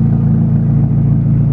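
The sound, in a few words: Dodge Neon straight pipe exhaust revving, sounds like race car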